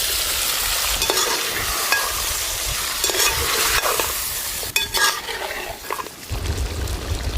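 Ground masala sizzles and fries in ghee for a mutton ghee roast while a spoon stirs and scrapes it steadily, the crackle loud and continuous with occasional clatter.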